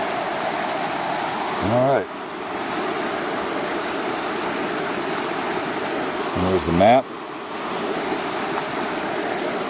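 Temperance River flows in a steady, broad rush of water throughout, moderately loud and continuous, with someone speaking briefly over it twice and light wind buffeting the microphone.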